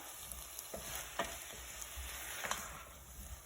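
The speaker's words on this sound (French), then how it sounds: "On mélange comme ça un petit peu." Meatball and pea tagine being stirred in the pot, with a steady low sizzle and a few soft scraping strokes of the spoon, close by and with no talking.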